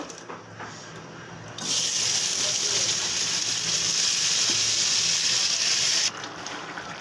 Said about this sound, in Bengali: কিছু চিংড়ি মাছ হলুদ লবণ দিয়ে ভাজি করে নেব